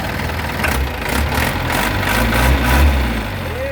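An Isuzu NPR115 six-wheel truck with a tail lift idles with a steady low diesel rumble and a faint rhythmic throb, heard close by.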